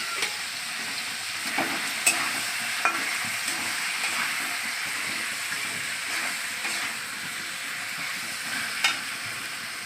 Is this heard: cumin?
yes